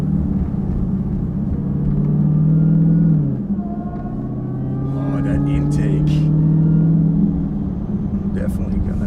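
A 2015 Dodge Charger Hellcat engine, 707 horsepower, rumbles steadily at low pitch while driving, the tone dipping briefly then building again, with someone talking over it.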